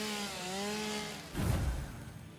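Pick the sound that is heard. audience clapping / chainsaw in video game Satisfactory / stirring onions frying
chainsaw in video game Satisfactory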